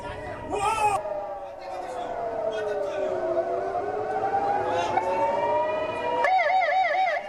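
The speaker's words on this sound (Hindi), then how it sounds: "हमलों के सायरन और हमलों की वार्निंग के सायरन लगातार बजते हुए नजर आ रहे हैं" An air raid warning siren in Israel during the Israel-Hamas war wails, rising and falling continuously, loud and steady, with a faster warbling pattern near the end and faint crowd murmur beneath.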